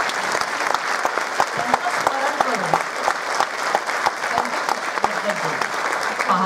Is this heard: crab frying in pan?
no